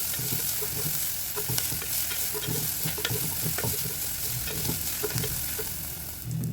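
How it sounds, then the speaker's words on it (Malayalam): Onions and green chillies sauté in a pan for a dal palak, giving a steady close sizzle with repeated stirring scrapes and clicks throughout. No voices are heard. "ഇനിയിപ്പോൾ ഇതും നന്നായിട്ടൊന്ന് വഴറ്റിയെടുക്കാം"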